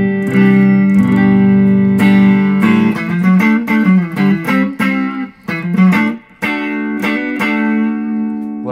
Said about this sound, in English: Here I am on the front picker on this guitar.